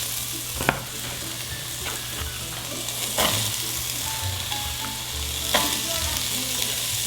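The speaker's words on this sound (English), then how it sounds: "I am using a little bit of avocado oil in there. Good and hot. Onions, yeah." Onions sizzle steadily in hot avocado oil in a pot, a dense continuous hiss with a few louder stirring scrapes, close up and without talk.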